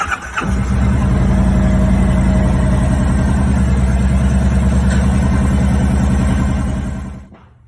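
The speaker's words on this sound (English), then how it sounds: "So we're going to go ahead and start the engine now" Kawasaki Vulcan VN1700 motorcycle engine starting with a short crank, then idling steadily and loud up close with a low, pulsing rumble for several seconds before it cuts off abruptly near the end.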